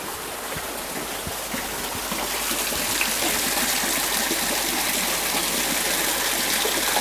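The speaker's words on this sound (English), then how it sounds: "There's water flowing here like crazy." Fast water rushes and gushes near an old water mill at a mission station in Genadendal, a dense continuous roar that swells slightly louder partway through, close by and alone.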